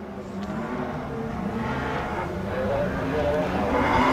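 BMW race car launching off the start line, engine note rising and building in loudness over a few seconds, with crowd or commentary noise underneath.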